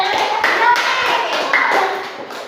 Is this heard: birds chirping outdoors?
no